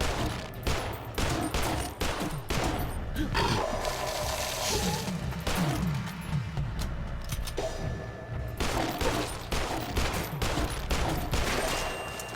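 Dense, rapid gunfire from the horror shooter Garage: Bad Trip, sustained bursts of shots that blend into a loud continuous barrage with booming hits throughout.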